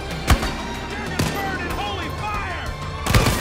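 A rifle fires sharp, loud single shots in Far Cry 5, two distinct cracks about three seconds apart, with faint talk and game sounds in between.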